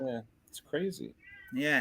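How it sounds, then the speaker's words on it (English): An indoor pet cat meows in short, close calls, the last near the end, with a person talking across and between them. "I can hear a cat."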